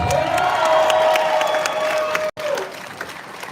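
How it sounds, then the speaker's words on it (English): A crowd at a student protest on a university campus applauds and cheers loudly and steadily, with a few whoops and a sustained tone running under the clapping before it briefly cuts out. "Let's give another round of applause for a Western alum in Huron"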